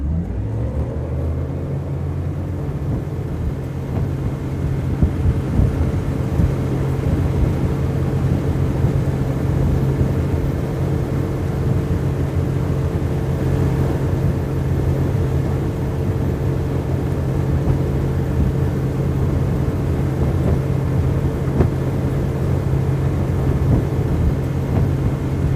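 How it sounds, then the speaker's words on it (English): A Quintrex aluminium boat's outboard engine is pushed to full throttle and drones steadily and loudly as the hull climbs onto the plane, a continuous low rumble that persists without voices. "floor the throttle till the boat comes onto the plane"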